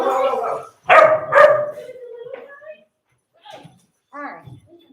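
Puppy at a dog socialization class giving a few sharp, close barks and yips, then a couple of fainter ones after a pause.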